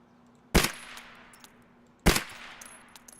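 Two sharp gunshots from a video game firefight aimed at an enemy, each a loud crack with a short decaying tail, spaced about a second and a half apart over a quiet background.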